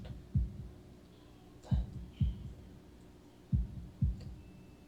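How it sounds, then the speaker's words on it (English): Heartbeat sound effect from the Katawa Shoujo visual novel: five deep, thumping low beats in uneven pairs, clear and fairly loud against a quiet background. "holding my breath in an attempt to hear my heartbeat."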